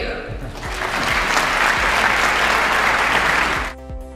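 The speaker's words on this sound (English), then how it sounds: "A round of applause for Dan Lier" An audience at a speaking event gives a burst of loud, dense clapping that swells and holds for about three seconds, then cuts off sharply. Talk is heard beneath the start and end.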